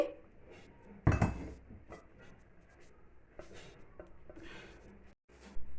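A pot of fish curry is lifted off a stove in a home kitchen, with one loud metallic clank of the pot followed by softer scattered clinks and knocks of cookware, close by and with no talking.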